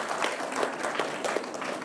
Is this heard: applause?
yes